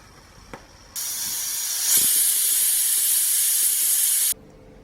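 A pressure cooker cooking mutton rogan josh lets off a loud, steady hiss of escaping steam for about three and a half seconds, starting abruptly and cutting off just as suddenly, with faint kitchen clatter before it.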